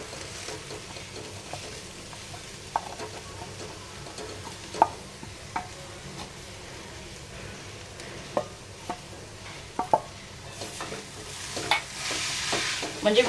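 Grated fresh coconut and jaggery roasting in a pan while being stirred, a steady soft sizzle with scattered scraping clicks of the spoon, growing busier and brighter toward the end, no talk.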